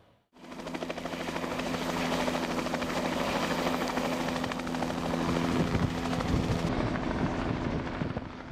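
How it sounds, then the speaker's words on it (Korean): Helicopter ferrying equipment over an Arctic Ocean sea-ice camp near an icebreaker, a steady loud rotor thrum and turbine whine that starts abruptly and holds close for several seconds without speech. "오전 내내 분주한 헬기."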